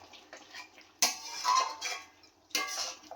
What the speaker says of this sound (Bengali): এবার আমি এটাকে ভালো করে কষাবো।